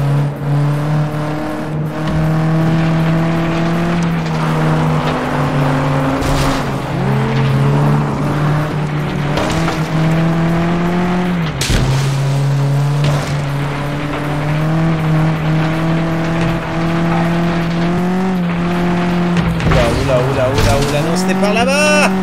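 Cars race and skid in FlatOut 2, with a steady revving engine drone, pitch sweeps as gears shift, and tire squeals through most of the stretch, while someone talks over the game.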